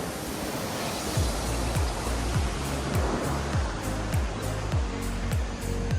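Ocean surf rolls in at Cabrillo Beach in San Pedro, a steady broad wash of breaking waves with rhythmic surges, heard at moderate distance with no talk.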